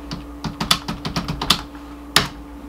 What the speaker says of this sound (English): I'll just do a general search for it over here. Type that in.